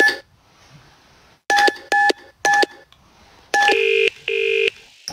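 Telephone keypad tones dial a number in the Dark Fall: The Journal video game, several distinct evenly spaced beeps. Each is clear and loud against near silence, and a brief tone opens the sequence.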